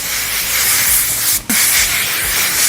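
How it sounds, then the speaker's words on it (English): A steady, close hiss of aerosol holding spray on a wig runs almost the whole time, broken by a brief pause partway through before spraying resumes. "I'm gonna hit this with some holding spray so that it can stay in place"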